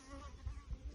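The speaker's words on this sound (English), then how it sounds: "most of these bees here are worker bees." Honeybees, mostly worker bees, buzz on a hive frame as a steady, close, droning hum.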